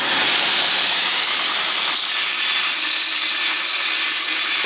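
2x72 belt grinder cleaning up a Damascus steel blade, a loud, continuous abrasive hiss and roar of the belt against metal, close and steady throughout with no talking.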